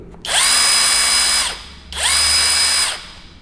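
A ROTAKE RC8805 3/4-inch cordless impact wrench whirs loudly at high speed, about 1800 RPM, in two bursts of just over a second each, with a short pause between them.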